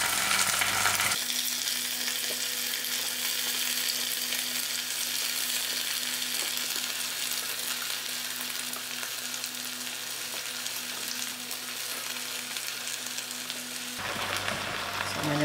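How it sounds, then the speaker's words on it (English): Green chilies and herbs fry with onions in a pot, giving a loud, continuous hissing sizzle with a steady low hum beneath, and no voices. "Now I'm just going to throw in my green chilies, and together I'm going to start putting in my herbs into the pot."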